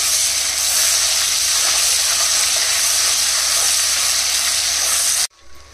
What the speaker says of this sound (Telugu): అల్లం వెల్లుల్లి పేస్ట్ వేసేసుకుని కొంచెం పచ్చి వాసన పోయే వరకు ఫ్రై చేసుకోవాలి